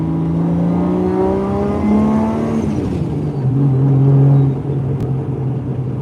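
A 610-horsepower car with a big single turbo revs nearby, its engine tone climbing steadily, dropping off, then rising again in a deep, loud drone.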